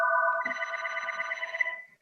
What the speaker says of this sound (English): Your phone call?